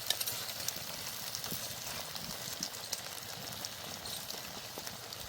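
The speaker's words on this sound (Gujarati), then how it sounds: "આને આપણે 2 થી 3 મિનિટ આવી રીતે તેલમાં પાકવા દઈશું" Vegetables cook in hot oil, a faint steady sizzle with dense crackling pops throughout and no voices.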